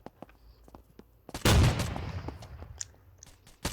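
A single loud shot rings out from a video game, a sharp burst followed by a decaying rumble, with a second quieter shot near the end and scattered faint clicks around it.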